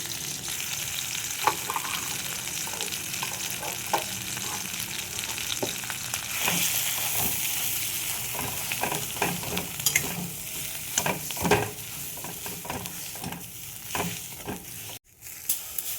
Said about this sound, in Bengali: যে আলুটা আমি মেখে নিলাম সেটা আমি এর মধ্যে একটু ভেজে নেবো